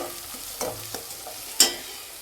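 Chopped onion fries in oil and is stirred in the pan, giving a soft sizzle broken by a few scraping strokes and one sharp clack near the end.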